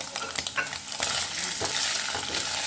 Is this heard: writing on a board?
no